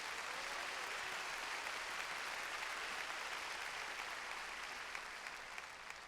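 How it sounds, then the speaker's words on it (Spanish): A church congregation applauds during a sermon, a steady dense wash of clapping that holds evenly throughout, fairly distant and soft, with no voices over it. "Dele un aplauso al Señor"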